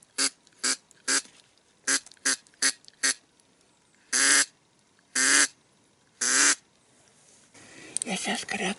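A man imitates a female duck's quack calling ducklings: a run of short, evenly spaced quacks, then three longer drawn-out calls, followed by a softer rapid chatter of quacks, close and clear outdoors.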